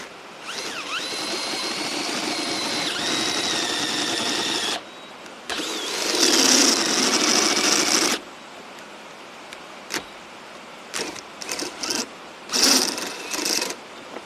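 A drill fitted with a step bit bores through metal in loud whining bursts with pauses between them, then gives shorter stop-start spurts toward the end.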